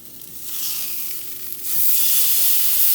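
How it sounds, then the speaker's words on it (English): Steak sizzling loudly in a hot pan right after being flipped, a bright continuous hiss that swells stronger midway, close up with no talk. "So now that 5 minutes has gone by, we're gonna flip our steak."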